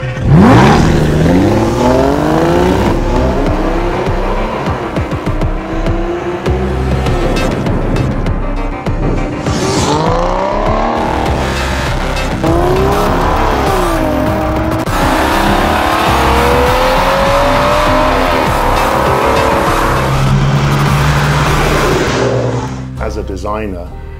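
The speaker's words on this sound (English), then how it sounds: "There is nothing like the sound of a DB9 when you first fire the engine." An Aston Martin DB9 engine starts, then roars and revs continuously, rising and falling in pitch with loud surges, with a voice talking over it at times.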